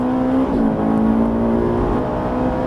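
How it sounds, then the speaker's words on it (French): A Ferrari 458 Italia engine pulls hard on a race track, a loud, close, continuous high-revving drone whose pitch climbs steadily throughout. "accélère jusqu'au bout là-bas"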